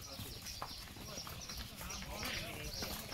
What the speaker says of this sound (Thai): ควายเข้าหมู่บ้านนะครับ